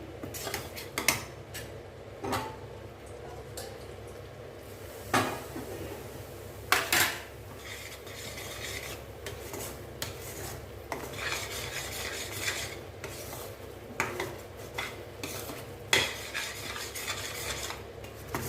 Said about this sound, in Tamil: இங்கே பாருங்கள் அடியில் எதுவுமே பிடிக்கக்கூடாது அந்த அளவு நம்ம கிளறணும்